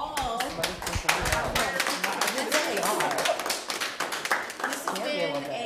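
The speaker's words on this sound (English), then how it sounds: "let's give a big round of applause for all" Applause at a university nonprofit pitch competition final round comes as close, sharp individual claps from a few nearby hands rather than a dense crowd roar, with speech mixed in underneath.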